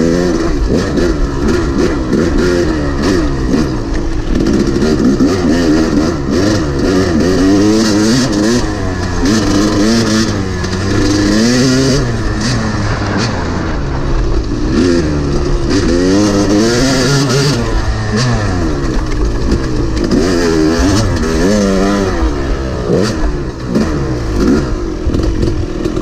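A dirt bike lapping a custom endurocross track, its engine revving and dropping continuously at close range with sharp throttle bursts and clattery mechanical noise throughout, no talk over it.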